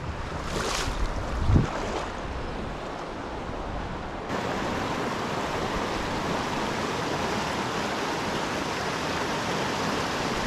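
Rough river water rushing past while fly fishing, a steady broadband roar of turbulent current with wind buffeting the microphone, a brief thump early on, then continuous dense flow.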